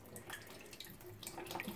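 Faint trickling and dripping of water draining from a Potterton 28HE combi boiler into a bowl, soft and continuous at low volume.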